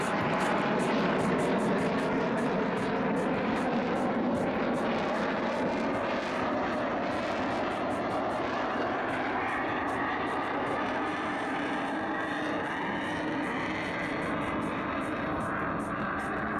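A JAS 39 Gripen fighter jet makes a slow flypast at an air show, its loud, continuous engine roar filling the air steadily for the whole stretch with no break.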